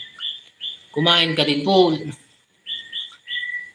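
Nocturnal birds call with repeated short, high chirps at night, pausing while a person speaks briefly close by before the chirping resumes.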